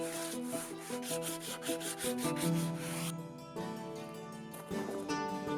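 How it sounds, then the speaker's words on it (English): Sandpaper brushes back and forth across the charred, blackened top of a log bench, a close, rhythmic rasping rub in repeated strokes with no voices. "I'm burning the top of the bench until it's black, and then I brush it gently with some sandpaper."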